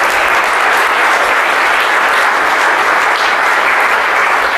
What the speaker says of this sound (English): I will ask you to give a big applause to all the goons, the staff, the organizers